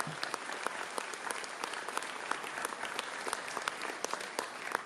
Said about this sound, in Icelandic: Gefum honum einnig gott klapp.